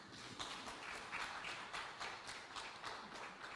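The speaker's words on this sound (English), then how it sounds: "Let's clap for them." An audience claps at a public gathering, a faint, distant patter of hands with uneven beats, heard alone without talk.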